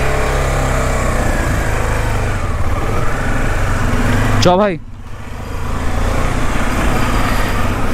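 Motorcycle engine droning steadily on a road ride with wind rumble throughout, a voice speaking over it, and a brief sweeping tone near the middle.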